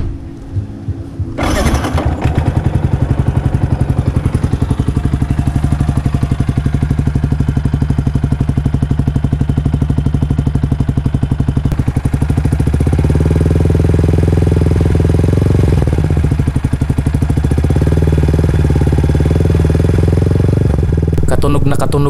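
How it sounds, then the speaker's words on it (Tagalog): A Yamaha Sniper 155 motorcycle with a new Dyno Pro full-system exhaust starts up after a brief pause and runs loud and close throughout, a steady throbbing idle with occasional revs swelling in the middle. "At heto na ang sound test ng bago nating tambucho mga bro."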